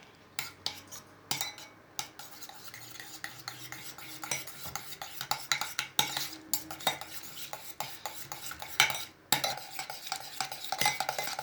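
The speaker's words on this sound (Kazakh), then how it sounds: "Эми кашык менен аралаштырып алабыз." A spoon mixes food in a bowl with repeated scraping strokes and irregular small clinks against the dish, close and fairly quiet, with no talking.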